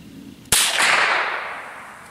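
A single sharp rifle shot, from a 1909 Mauser or a .22 Marlin, fired at targets on a pond outdoors: one loud crack followed by a long fading echo.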